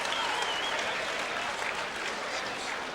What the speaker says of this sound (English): Crowd is enjoying this women's fight.